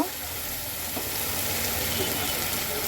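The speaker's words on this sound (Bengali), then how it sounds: "আমি আরও একটু কষানোর জন্য এর মধ্যে আরেকটু জল দেব" Spiced country chicken curry sizzles steadily in a pan after a splash of water is added, a dense, continuous frying hiss with crackle held at an even level throughout.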